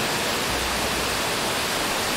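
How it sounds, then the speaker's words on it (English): A waterfall in the Roblox game The Wild West roars as a continuous, loud, even hiss of rushing water with no breaks. "I'm gonna go down this waterfall."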